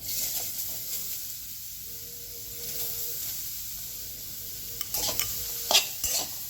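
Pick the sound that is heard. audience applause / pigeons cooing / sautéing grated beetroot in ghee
sautéing grated beetroot in ghee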